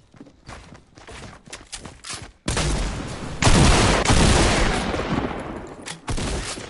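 Video game gunfire: a few quick scattered shots and footsteps, then sustained loud close bursts of rapid automatic fire with brief breaks.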